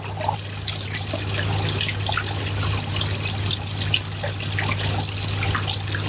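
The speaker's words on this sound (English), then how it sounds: "A nice relaxing sound of water." Water trickles and splashes over stacked rocks in a natural garden pond waterfall, a close, steady babble of small drips and gurgles over a low constant hum.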